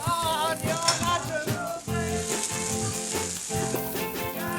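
An oversized American omelette with cheese, mushrooms, bacon and onions sizzles loudly in a frying pan, a steady close crackle and hiss with no speech.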